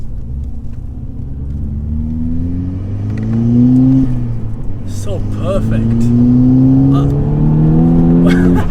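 Tuned VW Golf GTI Edition 30 with an R Tech Stage 1 setup making about 300 bhp, accelerating hard with loud induction roar and rising engine revs through gear pulls, heard from inside the car while a person talks briefly.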